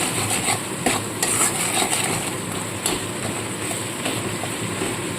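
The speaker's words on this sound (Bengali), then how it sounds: "দিয়ে ভালো করে মশলাটাকে আগে আমি কষিয়ে নেব" Spices being stir-fried in a pan for a cabbage kofta curry, a continuous close hiss of frying with scattered scrapes and clinks of a utensil against the pan, no voices.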